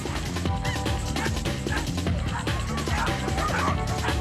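Billy, a Chinese Crested dog at a race, barks and yips in quick, repeated bursts amid a busy, noisy crowd.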